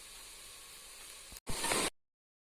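Tomatoes sautéing in a pan for chicken biryani give off a steady soft hiss, then a brief louder burst of sizzling after a short break before the sound cuts off.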